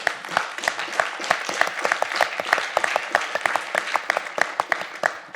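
A moderate group applauds at an alumni reunion, individual claps clearly separated in a brisk, even patter that holds steady at middling volume throughout.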